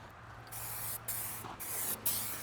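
Spray paint hisses onto the bed of a rebuilt 1989 Chevrolet square body crew cab truck in a budget paint job, a steady close misting hiss broken by a few short pauses between passes.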